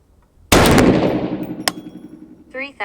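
A .350 Legend rifle fires one loud, close shot that rings out and decays over about two seconds, with a small metallic click after it and a brief voice at the end. The round fails to cycle.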